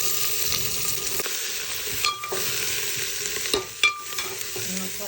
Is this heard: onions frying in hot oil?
yes